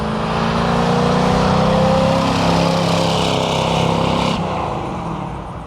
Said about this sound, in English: That Camaro scoots.